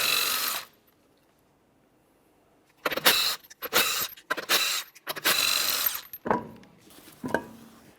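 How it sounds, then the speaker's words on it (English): A power tool removing 19mm lug nuts from a 2012-2015 Honda Civic wheel, heard as several loud buzzing bursts separated by short pauses after a quiet stretch. "we'll continue on with removing each one of our 5 19mm lug nuts so we can get the wheel off of here"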